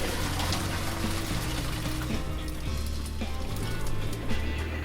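Water from cooking homemade fresh pasta pours and splashes steadily through a strainer, a dense continuous rush heard up close for a few seconds with no speech.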